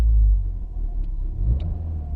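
Ford Fiesta ST180 engine revving in a rev-matched downshift, a low steady rumble from inside the car with a modest rise in revs midway and no talk.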